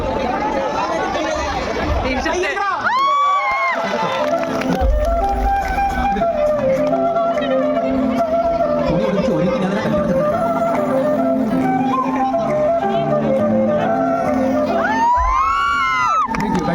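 A crowd at a ganamela live music show cheers and applauds, with lively chatter, shouts and rising whistle-like whoops near the start and end, all fairly close and continuous.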